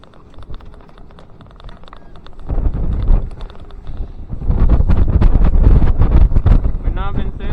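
Strong wind gusts roar across the microphone aboard a sailboat flying a Norwegian flag, growing louder and buffeting harder in the second half, with water and rigging noise mixed in.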